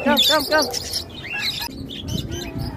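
Free-flying pet alpha birds calling close by, with a burst of bright, repeated chirps and whistles that fades into scattered softer calls, while a person's voice comes in under them.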